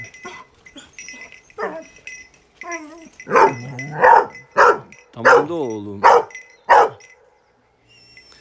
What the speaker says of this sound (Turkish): Bu da av köpeği, domuz köpeği artık.